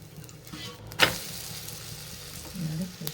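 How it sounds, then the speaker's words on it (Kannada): Rava rotti sizzles on a hot pan as oil is poured around it, giving a steady close frying hiss with a sharp clatter near the start. "ಸ್ವಲ್ಪ ಎಣ್ಣೆನ ಸುತ್ತ ಹಾಕ್ಕೊಳ್ಳೋಣ."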